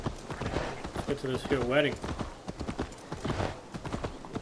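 Horse hooves clip-clop in the video game Assassin's Creed Valhalla, a steady, soft trotting rhythm under game music and character dialogue, while a player talks over it.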